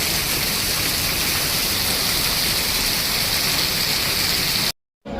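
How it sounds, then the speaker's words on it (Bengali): Heavy rain pouring down on a construction site, a dense, steady roaring hiss with no breaks, loud and close, cutting off abruptly near the end. "এমন বৃষ্টি।"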